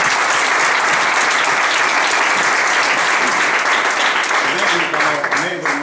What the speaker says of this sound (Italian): Meritano il nostro applauso.